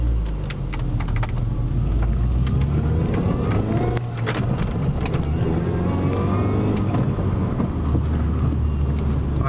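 A Mini Cooper S being driven: a steady, close engine drone with a low rumble from inside the car, plus light mechanical rattles and clicks throughout.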